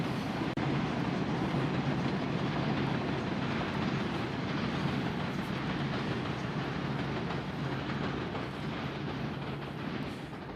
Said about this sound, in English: including waiting for the train to pass.